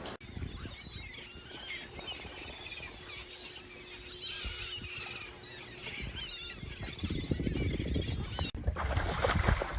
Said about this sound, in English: These birds squawk, bite each other.